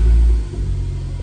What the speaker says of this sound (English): Just start the car up for you.